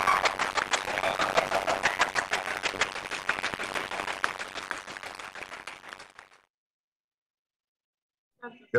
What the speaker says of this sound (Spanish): Y está fuerte ese aplauso.